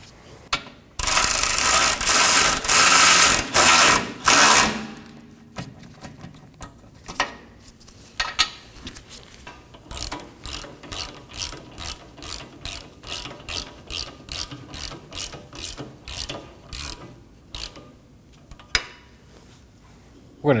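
Wrench ratcheting on the rear lower control arm bolts of a 2018-2024 Toyota Camry, an opening burst of heavy scraping followed by a long series of rapid, close ratchet clicks in short repeated strokes.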